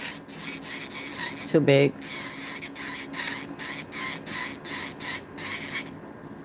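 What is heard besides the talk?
electric nail drill filing excess acrylic at 5,000 RPM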